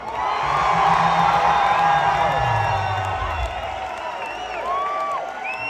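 A rock concert audience at the Royal Oak Music Theater near Detroit cheers, whoops and applauds, a loud, sustained roar with whistles and shouts that slowly eases off, while someone speaks into it.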